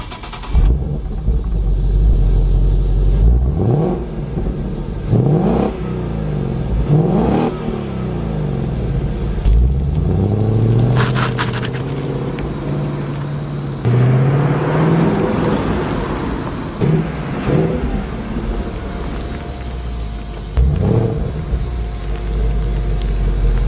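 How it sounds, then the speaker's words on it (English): A 2015 Ford Mustang GT V8 engine revs repeatedly with throaty exhaust bursts, rising and falling in pitch, loud and close, with idle rumble between pulls. "y'all got to hear the exhaust"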